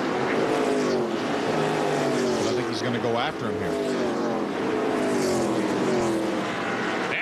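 Stock cars racing three wide at Irwindale Speedway in a 2010 K&N Pro Series event, a dense, continuous engine roar with pitch swells as cars pass, under a commentator's voice.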